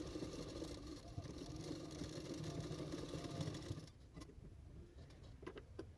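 A sewing machine runs a continuous stitching line along a blouse sleeve, a steady mechanical whir close by that stops partway through, leaving faint clicks and handling sounds.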